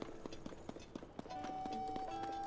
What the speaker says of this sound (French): Emmener un cheval.